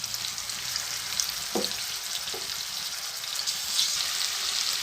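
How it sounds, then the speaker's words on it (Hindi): Chicken cooking in a pan for a chicken paratha roll, giving a steady, close frying sizzle with two brief stirring scrapes partway through and no talking. "चिकन को पकाते हुए मुझे 3 से 4 मिनट हो गए हैं"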